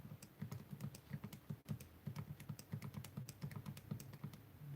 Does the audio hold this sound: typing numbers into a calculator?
yes